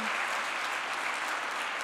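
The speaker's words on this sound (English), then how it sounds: "can we please have another round of applause" A gala dinner audience gives a round of applause, a smooth, even wash of many hands clapping at once, steady and full, with no voice above it.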